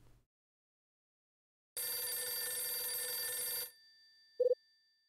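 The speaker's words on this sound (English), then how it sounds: "Now the phone's ringing." Telephone in the video game Last Window rings once in a bright, sustained electronic burst lasting about two seconds, followed by a short faint tail and a brief click, in an otherwise quiet scene.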